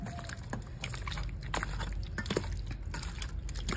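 About a spoonful of mustard oil goes onto chicken for a chop, heard as soft close wet drips and a light trickle with small clicks, quiet and without talk.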